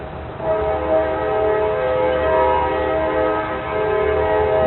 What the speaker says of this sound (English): Just now at noon, train's coming by.